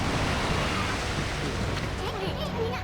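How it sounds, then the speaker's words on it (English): Swelling ocean waves from the video game Okami, a steady broadband wash of surf that holds at an even level throughout, with faint tonal game sounds drifting in near the end. "The swelling of the waves is a sign that it's coming."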